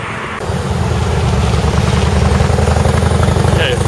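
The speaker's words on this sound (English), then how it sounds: "a lot of fucking traffic in Neosho today" Road traffic on East School Street in Neosho, Wisconsin, heard close as a steady loud engine rumble with a vibrating drone, as if from inside or beside a running vehicle, starting after a brief quieter moment.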